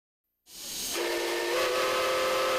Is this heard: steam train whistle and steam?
yes